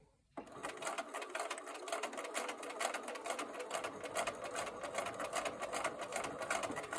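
A sewing machine stitches fabric for a five-pointed star quilt block, running in a continuous rapid mechanical chatter that holds steady throughout at a moderate, close level.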